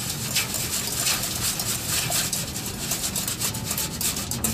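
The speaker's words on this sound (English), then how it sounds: "we mix it with our whisk" Whisk beating a mixture in a bowl at a cooking workshop, a fast steady scraping rhythm, close and continuous with no speech.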